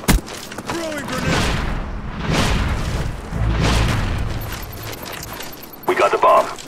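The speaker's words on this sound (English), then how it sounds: "Throwing grenade!" In an online shooter game on the Summit map, booming blasts and rolling gunfire come close together, a heavy boom at the start and repeated thuds after it, as game voice callouts play over the noise.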